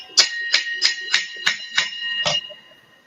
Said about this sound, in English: Do a prayer with the chime.